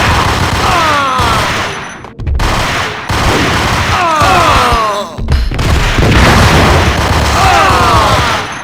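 Continuous gunfire fills a Max Payne 2 firefight, with dense, loud bursts and booms running almost without a break and a few short gaps between volleys.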